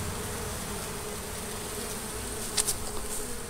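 Honeybees buzzing at an open hive during a hive removal, a steady close drone with a brief louder pass near the end, and no voices.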